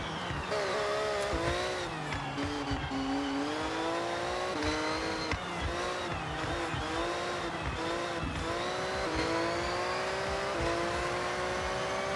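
A Volvo S60R engine revs hard in Forza Horizon 6, climbing through the gears in rising, whining sweeps with repeated shifts and a brief screech of tyres, loud and steady.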